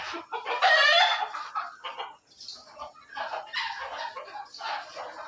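A desi rooster calls loudly over clucking desi hens, several overlapping bird voices close by with short pauses between bursts.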